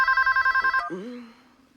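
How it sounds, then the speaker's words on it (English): A telephone in a Halloween movie scene rings with rapid, loud electronic trilling bursts, cut off abruptly and followed by a short falling tone and faint hum. "He gets a phone call"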